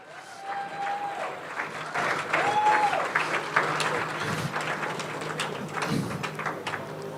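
Steady applause from a crowd, a dense wash of clapping that swells and then holds for several seconds, with faint voices mixed in.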